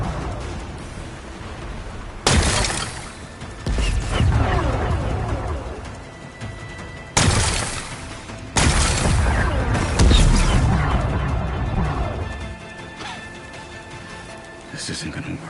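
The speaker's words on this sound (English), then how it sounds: "Gotta blast away some rocks, so I can expose the power cell." Rocks blasted apart in Horizon Forbidden West to uncover a power cell, several loud booming impacts with crumbling debris, spaced a few seconds apart, with people talking between them.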